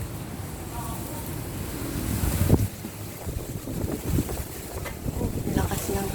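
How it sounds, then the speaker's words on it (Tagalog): Gusty wind buffets the microphone in a steady rumbling roar, swelling in bursts, with faint sounds of voices under it. "Lakas ng hangin."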